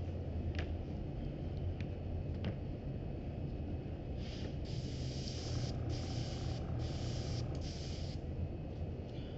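Airbrush hissing paint onto a leather purse, a steady airy spray in several bursts of a second or so each, close by over a constant low background rumble.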